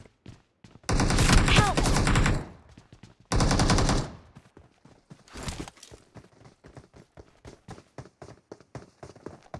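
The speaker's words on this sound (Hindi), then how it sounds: "वो नीचे जाते हैं और मैं इसको गोलियों से मार देता हूँ" Gunfire in the battle royale game BGMI: two sustained bursts of rapid automatic fire, loud and close, followed by scattered single shots and quick footstep-like clatter.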